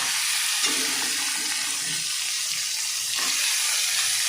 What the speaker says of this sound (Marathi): आपण आता हा मसाला चांगला फ्राय करून घ्यायचा